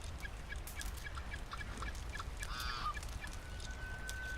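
Geese honking in the video game Red Dead Online: faint scattered calls, then one clear, loud, drawn-out honk near the middle over a constant background hiss.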